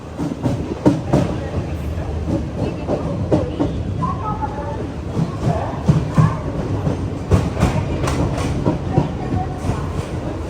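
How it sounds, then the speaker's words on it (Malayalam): The Garib Rath Express rolls into Chengannur railway station with a continuous rumble of wheels and rhythmic clacking over rail joints, close and fairly loud, with a few faint squeals along the way. "ചെങ്ങന്നൂർ റെയിൽവേ സ്റ്റേഷനിലേക്ക് ഇതാ ട്രെയിൻ എത്തിക്കൊണ്ടിരിക്കുകയാണ്."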